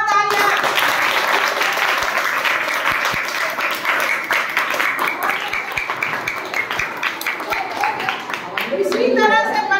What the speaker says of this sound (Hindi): चलिए अर्जुन के लिए बहुत तालियां